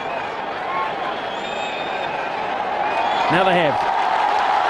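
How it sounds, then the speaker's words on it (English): A test-match cricket crowd erupts in a big ovation for New Zealand's declaration against India, a broad wash of clapping and cheering that swells toward the end, with a commentator speaking over it. "The crowd go nuts. It's the biggest ovation I've heard"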